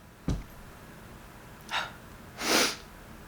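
Three sneezes from a person with a cat allergy, spaced apart over a few seconds: a short sharp burst, then two breathier ones, the last the strongest, all fairly soft and close with no talking.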